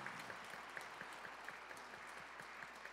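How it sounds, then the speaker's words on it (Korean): A church congregation applauds during a Sunday evening testimony concert service, with quiet, scattered handclaps spread evenly through the moment. "격려의 박수 부탁드립니다"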